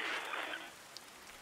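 Rain falls in a Korean visual novel horror game as a soft hissing wash that fades after about half a second, leaving faint drips and quiet ambience.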